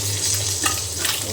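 Pieces of rohu fish fry in hot oil with a steady, close sizzle and a low hum underneath, and a pan is stirred or shifted now and then.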